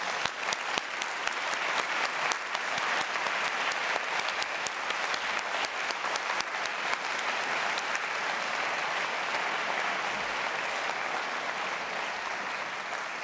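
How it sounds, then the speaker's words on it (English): An audience at the 2023 North Central College honors convocation applauds its supporters, a long, even wash of many hands clapping, moderately distant and continuous. "let's give all of these supporters a round of applause"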